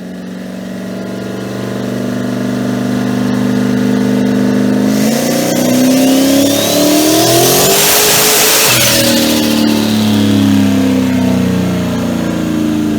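A powerful Mustang engine with a single 88 mm turbo revs hard on a dyno, steadily climbing in pitch, a rising turbo whistle building over the roar, then eases off.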